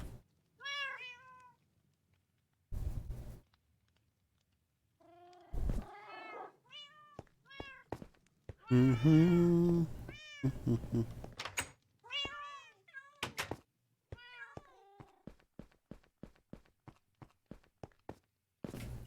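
Repeated cat meows from a Minecraft cat in a video game, several clear calls spread across the clip, mixed with footstep-like thuds and knocks, with short bursts of game noise in between.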